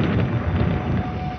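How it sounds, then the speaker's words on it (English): Thunder rolls during a thunderstorm, a dense low rumble mixed with broadband noise that stays loud and sustained without a clear start or end, with no voices. "Thunderstorms pose a double threat."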